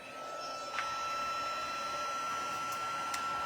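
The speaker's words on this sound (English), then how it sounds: "I'm going to cut my hairdryer on," A hairdryer blows hot air to heat-emboss a birthday card, giving a steady, fairly quiet whirring drone with a faint whine that holds evenly throughout, no voices.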